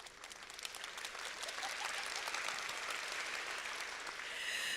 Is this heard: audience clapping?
yes